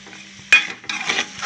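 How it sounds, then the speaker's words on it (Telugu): Mutton pieces for a drumstick curry frying in a pan, with a faint hum, then a sharp clatter as the meat is moved, followed by a bright, steady sizzle up close. "ముందు ముక్కల్ని ఫ్రై చేసుకుందాం"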